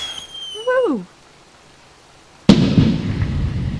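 Fireworks in the survival video game Heat: a rising whistle launches, a second of silence follows, then a loud sharp burst breaks into crackling that trails off, all without speech.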